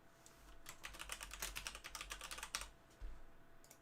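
Quick, uneven bursts of clicking keys on a computer keyboard during a live software demonstration, close and fairly soft, with short pauses between runs of typing and no talking.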